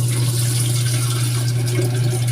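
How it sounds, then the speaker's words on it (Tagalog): Water pours steadily into a kettle-like electric heater in one continuous, fairly loud, splashing stream. "Tas kini yang iyahang murag takore. Atong suglag tubig."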